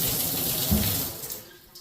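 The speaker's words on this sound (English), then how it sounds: "Test out the shower" Water pouring steadily from a shower head in a house being checked over, a broad hiss close by that thins out toward the end.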